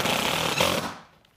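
A power driver buzzes hard as it runs pan head screws into metal transition trim on a standing seam roof, one loud burst that fades out within about a second.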